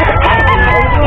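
Roosters crowing loudly and close at the Bocaue pet market, a dense overlapping burst of calls over steady crowd babble.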